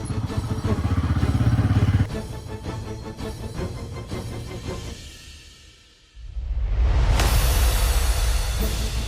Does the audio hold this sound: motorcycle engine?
yes